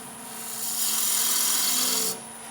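A woodturning gouge cuts a cove on a spinning lathe, giving a steady rasping, scraping hiss that swells in the middle of the pass and then drops away, close and alone with no talk.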